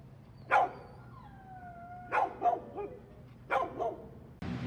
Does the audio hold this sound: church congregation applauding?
no